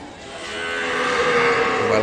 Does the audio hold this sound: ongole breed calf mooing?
yes